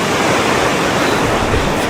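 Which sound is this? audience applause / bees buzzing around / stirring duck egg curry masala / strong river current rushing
strong river current rushing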